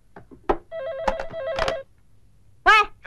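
A telephone rings in short repeated electronic trills, with brief spoken exclamations between and after the rings indoors.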